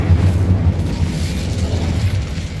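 The Incendio fire spell cast in Hogwarts Legacy makes a loud, continuous, low rumbling whoosh of flame that holds steady for the whole stretch.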